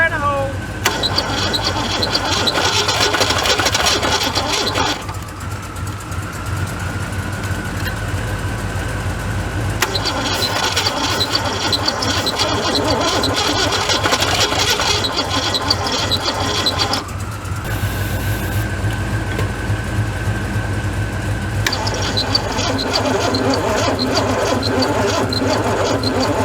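A 1978 Ford Fairmont engine that sat for 35 years cranks and runs roughly, sounding loaded down with a squeak, its steady drone broken into surges with short gaps, close and loud, mixed with speech and another truck idling.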